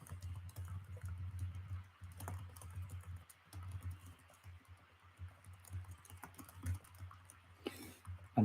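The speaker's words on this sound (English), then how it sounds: "I'm typing in the Discord." Typing on a computer keyboard up close, quick irregular bursts of soft key clicks with short pauses and a low background hum.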